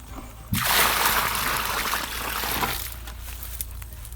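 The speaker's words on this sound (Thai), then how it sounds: "แม่เทน้ำเลยแม่" Water splashes and sloshes into a rat burrow in a field as a hunting dog digs, a loud burst of pouring and splatter that eases into a steadier trickle with faint voices nearby.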